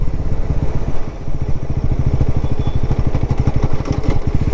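A Bajaj NS400z motorcycle engine runs at low revs with a steady, rapid low thumping pulse, close and loud throughout, with a slight clattery knock in the rhythm.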